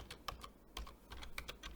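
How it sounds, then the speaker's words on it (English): Computer keyboard typing while writing basic HTML in a terminal editor: a quick run of light, close key clicks at an irregular rhythm, fairly quiet, with no talking. "right now what I do is I'm just typing a basic HTML"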